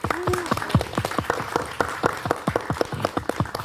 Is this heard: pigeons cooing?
no